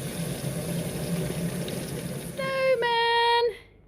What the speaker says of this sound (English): Fill up all my water bottles.